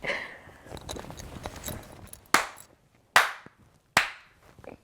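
Three sharp, loud hand claps spaced under a second apart ring out near the microphones to sync them, each with a short decay, following a stretch of quieter rustling.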